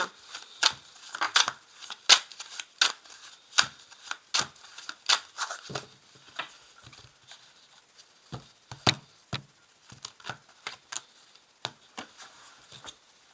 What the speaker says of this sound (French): Alors je place 5 cartes.